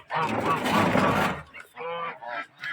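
Several domestic geese honk loudly and close by in a poultry yard, a burst of overlapping calls followed by a few shorter honks.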